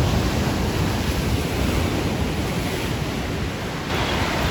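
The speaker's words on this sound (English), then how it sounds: "Waves are a little rough today." Rough ocean waves break along the California shore in a loud, continuous roar of surf mixed with wind buffeting the microphone, with no talking.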